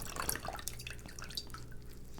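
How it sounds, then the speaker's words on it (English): Water rinses etching cream off a glass mug, dripping and splashing in a sink with scattered droplet ticks over a steady trickle, close and fairly quiet. "we'll go ahead and rinse this off"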